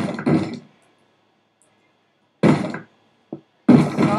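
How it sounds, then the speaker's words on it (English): Minecraft zombies banging on wooden doors, three heavy thuds and a small knock separated by silence, close and loud. "Zombies love banging on those doors."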